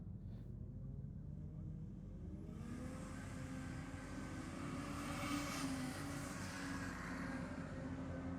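Drag racing cars, a wagon and a Ford Falcon, launch off the line at a night drag meet, a broad engine roar swelling after a couple of seconds and holding loud to the end.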